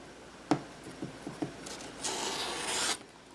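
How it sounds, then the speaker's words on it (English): A rotary cutter or blade trims the excess fabric off a quilt block along a clear ruler: a few soft scraping strokes, then a longer, louder rasping pass that ends with a sharp tick, close and quiet. "all I want to do is trim off the excess"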